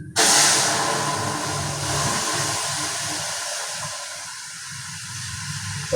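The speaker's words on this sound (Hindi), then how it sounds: "दाल में छौंक लगा रही है" Tempering (tadka) hits a pot of dal (lentils) in a home kitchen, giving a sudden loud sizzling hiss that stays steady and slowly eases off, with no talking.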